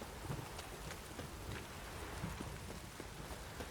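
Faint, steady rainfall in The Witcher 3: Wild Hunt, a soft continuous patter on surfaces with occasional heavier drops, distant and with no voices.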